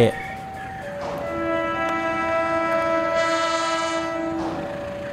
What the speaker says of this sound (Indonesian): kereta api Dharma Wangsa So 31 ditarik lokomotif merah biru RNB bekas Sumatera